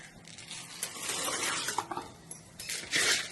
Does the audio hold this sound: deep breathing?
no